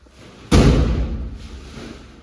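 A single heavy thud lands suddenly as a fertilizer sack is dropped onto a pile while a vehicle is unloaded at night, its low rumble lingering briefly over quiet background noise.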